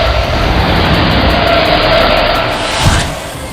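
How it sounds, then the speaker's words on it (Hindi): A car driven at high speed gives off a loud, steady, broadband roar of engine and wind that holds for several seconds, with a brief thump near the end. "मनोज गाड़ी को तेज रफ्तार से लेकर जा रहा है"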